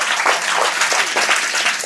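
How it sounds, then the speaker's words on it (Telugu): Schoolchildren at a government school in Bollavaram clap together in a loud, close burst of many quick overlapping hand slaps that keeps going without pause. "జమాల్ వలికి చప్పట్లు కొట్టాలా మీరు?"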